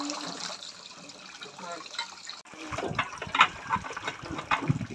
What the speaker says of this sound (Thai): หยิบช้อนมาล้างช้อน ทีนี้ไปล้างช้อน